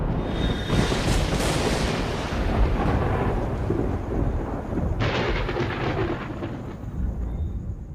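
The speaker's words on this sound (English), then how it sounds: "the ever-present risk of a climber's nightmare, an electrical storm" Thunder from an electrical storm over Yosemite's cliffs rolls loud and continuous, with a sharp crack midway and deep rumbling under steady rain.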